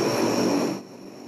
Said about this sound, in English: Now that is the roar of the Illinois National Guard C-130 Hercules cargo plane.